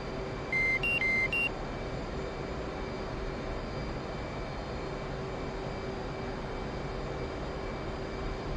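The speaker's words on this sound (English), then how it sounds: "No, you always get a master caution." F/A-18C master caution warning tone in the DCS flight simulator: a few quick electronic beeps near the start over a steady cockpit engine hum that continues alone afterward.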